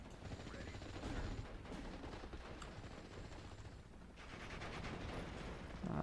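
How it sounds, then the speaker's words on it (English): Machine gun fire in the Steel Division: Normandy 44 World War II strategy game, quiet crackling bursts of rapid shots over a dense battle rumble. "My Sherman's just cruising around, shooting stuff with his machine guns"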